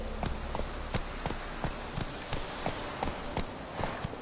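A horse galloping in The Witcher 3, a steady, fast rhythm of hoofbeats over a constant background bed of game sound.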